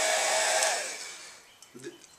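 A heat gun blows with a steady, loud whoosh while warming a nitro RC engine, then cuts off and fades, leaving quiet with a few faint clicks.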